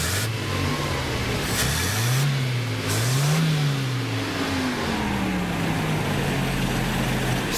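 Small engine running steadily after its ignition spark was fixed, a continuous mid-pitched drone whose pitch rises and dips a few times as the throttle shifts, close and fairly loud throughout.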